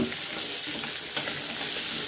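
Ginger, garlic and shallot sizzle briskly in a hot pan, a dense, bright crackle of frying with soft stirring scrapes, close and steady for a couple of seconds.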